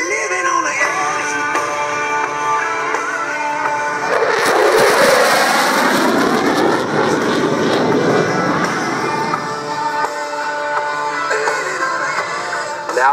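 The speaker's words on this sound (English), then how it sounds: "Watch from the left as Thunderbird 6 displays the historic Thunderbird emblem on the bottom of his aircraft with the knife edge pass" A Thunderbird jet aircraft roars past at the Millington Airshow on a knife edge pass, the loud engine roar swelling and sweeping by over a few seconds, with an announcer talking throughout.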